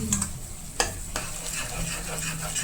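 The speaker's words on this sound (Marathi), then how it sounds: "आणि त्याला छान हलवत भाजायचं. हलवत राहायचं." Masala being stirred and roasted in oil for a mutton dish, with a steady low sizzle and scraping strokes of a spoon in the pan, plus a couple of sharper knocks against the vessel.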